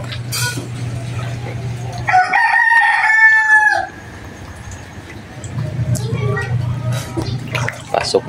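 Chickens during a flood, a rooster crowing loudly and close in a long drawn call amid scattered clucks, with rushing floodwater and people talking in the background.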